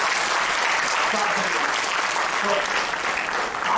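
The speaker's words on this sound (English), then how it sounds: "But you're clapping up really well." Lecture audience clapping steadily and fairly loud throughout, a dense wash of applause with a brief spoken word over it.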